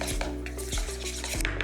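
Bread pakoda batter being stirred in a bowl, a spoon scraping and clinking against the sides in a steady rhythm of repeated strokes, close and alone.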